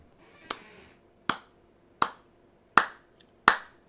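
Five sharp, slow single claps from one person, evenly spaced about a second apart and close by, each ringing briefly in a quiet room.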